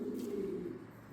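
A purebred pigeon with a blue beak and clean eyes gives a soft, low cooing call, close and fairly quiet, one sustained throaty coo without talk.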